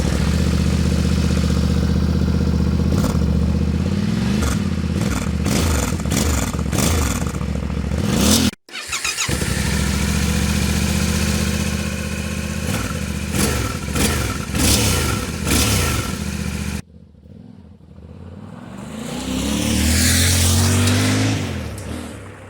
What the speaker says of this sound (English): let's get a baseline test with the stock exhaust so we can get a good comparison between the two